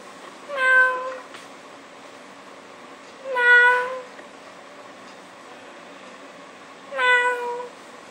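A person's voice imitates a cat softly meowing to call, giving three drawn-out, tonal meows spaced a few seconds apart against a quiet background.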